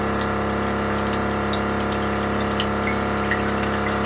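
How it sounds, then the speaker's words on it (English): A water pump inside a BUNN CWTF15 coffee maker gives off a loud, steady electric buzz with a droning hum that holds unchanged throughout, close and alone. "And that big buzz you hear is the water pump."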